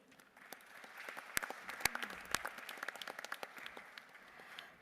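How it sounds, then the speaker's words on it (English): An audience at the BioAsia 2024 conference on data and AI applauds after speaker introductions. The clapping is steady but fairly faint and distant, with a few sharper claps standing out. "Let the claps keep rolling, ladies and gentlemen."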